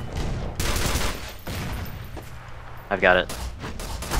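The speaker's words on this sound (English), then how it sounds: "rocket turret" A rocket turret firing in the video game E.Y.E. Divine Cybermancy, heavy bursts and booming blasts in several waves, with someone speaking briefly over the gunfire.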